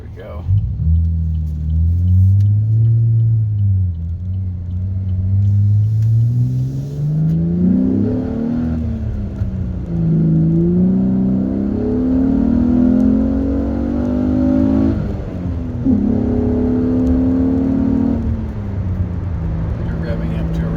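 Engine of a 2015 Camaro LT V6 revving repeatedly up toward 7,000 RPM, the pitch climbing and falling in loud sustained sweeps close to the microphone, with brief talk mixed in.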